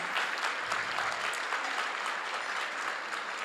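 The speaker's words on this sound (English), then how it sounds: "Let's give our sponsors and volunteers, especially our chair of this pageant, Betty G, another heartfelt applause." Audience applause at the Miss Chinatown Houston Scholarship Pageant, a steady, full wash of many hands clapping that holds evenly at moderate loudness throughout, with no voices on top.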